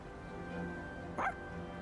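A single short bark from Koromaru, the dog in the video game Persona 3 Reload, a brief yip in the middle of a quiet game scene with a faint steady background hum.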